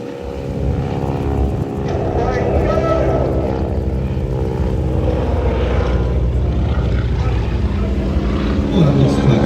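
Display aircraft flying at the International Ayr Show festival of flight, a loud continuous engine drone with a rising and falling tone, under a commentator's voice.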